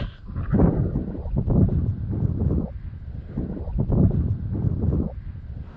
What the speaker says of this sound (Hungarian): kellemes ez a felcsapó hűvös szél.